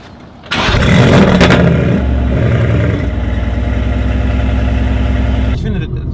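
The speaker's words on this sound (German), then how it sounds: "Ich finde, so Leerlaufgeräusch." An 800 hp Mercedes-AMG GT R engine starts with a loud rev, then settles into a deep, steady idle rumble, close and continuous.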